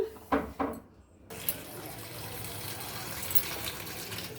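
Tap water gushes steadily into a bowl of cut potatoes being washed, preceded by a few soft knocks, close and continuous to the end.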